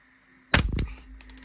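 A single sharp shot from an Umarex VFC Glock 19X 6mm airsoft pistol, a crisp close crack with a short metallic ringing tail, heard alone in a quiet room.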